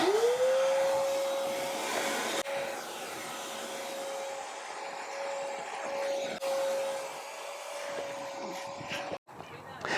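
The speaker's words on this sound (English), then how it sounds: "I'm going to vacuum this before I get any further." Vacuum cleaner running steadily inside a BMW i3 car interior, loud and close with a constant whine, briefly interrupted by bumps and a short cut near the end.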